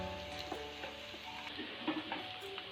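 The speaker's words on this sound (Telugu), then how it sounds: "ఈ విధంగా మిశ్రమాన్ని అంతటిని చక్కగా ఫ్రై చేసుకోవాలండి కొంతసేపు." Soya chunk and egg mixture frying in hot oil in a pan, a steady soft sizzle with light stirring clicks and scrapes throughout, no talking.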